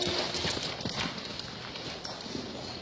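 A mare loping on a longe line sends out a continuous rhythm of hoofbeats on the ground, moderately close and steady through the short stretch.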